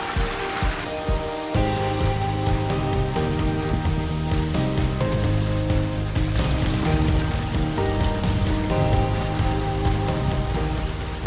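Water trickles into a small desert pool, a steady, dense patter that continues throughout. Layered musical tones and a hum run on top, and the background shifts partway through.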